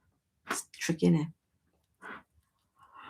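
A single person sneezes once, sharp and close, then a voice speaks briefly at low level in a quiet indoor room.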